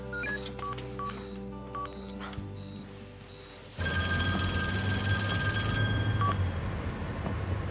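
Telephone keypad dialing tones sound as a string of short, clear beeps. Partway through, a louder, steady broadband noise takes over and no voice is heard.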